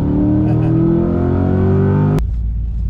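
A Corvette C8 sports car accelerates at full throttle, its engine roaring loud and close with a steadily rising pitch, then cutting sharply as it shifts or lifts off.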